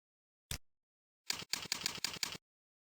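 Typing a domain name on a computer keyboard: one isolated keystroke, then a quick run of about six crisp clicks, close up against silence.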